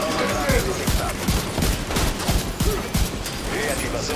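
Scorpion weapon fire in The Division 2, loud rapid repeated shots in irregular bursts with sharp distinct cracks, while voices talk over the gunfire.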